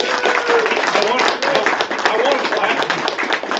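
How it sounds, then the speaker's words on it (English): An audience claps through an Air Force promotion ceremony, dense steady applause from a gathered crowd lasting a few seconds, with a voice talking briefly over it. "I think we clap here."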